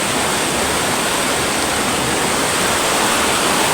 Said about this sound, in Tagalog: Nandito po tayo ngayon sa area ng ilog.